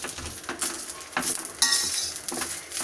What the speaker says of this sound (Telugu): ఇట్లా మధ్యలో మధ్యలో కలుపుకుంటూ వేయించుకోవాలి.